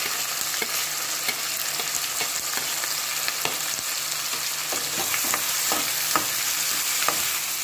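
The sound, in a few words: tomato and curry leaves frying in a pan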